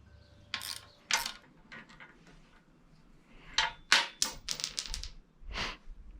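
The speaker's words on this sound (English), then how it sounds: "It is a 10mm wrench up on the top of the bolt here and a 13mm for the nut down here." A wrench clicks and clanks against a bolt and nut on a MotoVox minibike handlebar, a 10mm on the bolt head and a 13mm on the nut below, giving several sharp close metallic ratcheting bursts with short pauses between.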